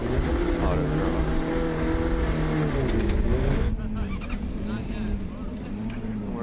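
A Formula SAE race car runs the autocross course, its small engine revving in rising and falling harmonic sweeps that are loud at first and then drop away and grow fainter partway through.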